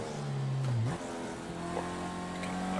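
Race car in Project Cars 2 career mode Formula Rookie, engine droning then blipping sharply upward on a heel-and-toe downshift before settling into a steady mid-pitched hum, close and without talk.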